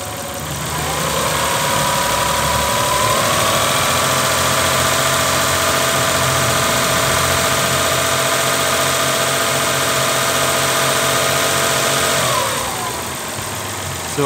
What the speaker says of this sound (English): when you rev the engine up, it switches faster